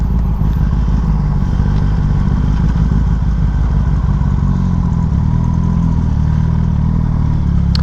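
A Kawasaki Ninja ZX10R sport motorcycle engine runs loud and close, a steady deep rumble with a slight rise in pitch toward the end and no talk.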